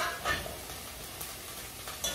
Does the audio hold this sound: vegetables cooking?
yes